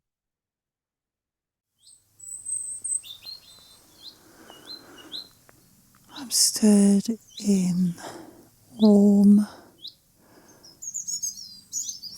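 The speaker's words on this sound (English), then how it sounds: "listening to birdsong" Songbirds chirp and trill on an old hill track in February sunshine, bright close calls in short phrases between quiet gaps, while someone speaks softly over part of the song.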